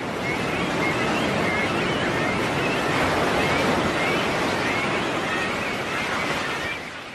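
Ocean surf breaking against a rocky shore where young cormorants fall into the waves, a loud, steady wash of roaring water and wind that fills the whole stretch, easing slightly at the end.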